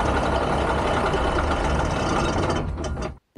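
Diesel engine of a carnival procession truck idling steadily at close range with a low, continuous rumble, cutting off abruptly at the end as the engine is shut down.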